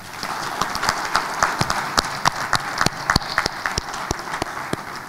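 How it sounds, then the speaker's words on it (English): A convention crowd in Nigeria applauds itself, dense sustained clapping with distinct sharp individual claps standing out on top, loud and close. "please give yourselves a round of applause"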